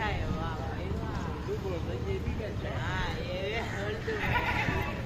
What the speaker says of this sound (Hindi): ये 4 बकरे बहुत अच्छे हैं